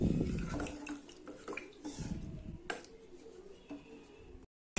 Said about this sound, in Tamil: நான் இன்னும் 1/2 கிளாஸ் அளவுக்கு தண்ணி ஊற்றுறேன்.